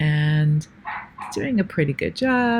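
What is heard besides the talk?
dog barking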